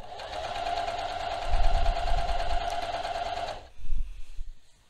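Sewing machine stitching a hem seam on a top, a steady close motor whir with rapid needle ticking that stops abruptly near the end, followed by faint handling thumps.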